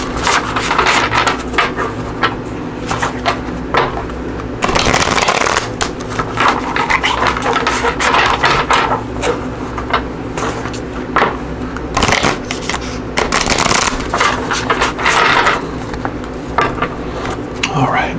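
Fairy Tarot cards are shuffled by hand during a pick-a-card reading. The sound is a soft, continuous papery rubbing and riffling, with two louder, fuller bursts of shuffling partway through.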